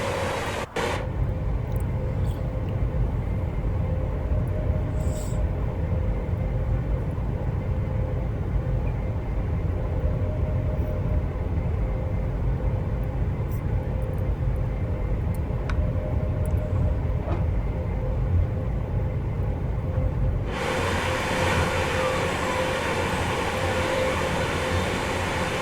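An Overground train in Train Sim World rumbles steadily past, a loud continuous rolling drone that cuts off abruptly near the end, with no talking.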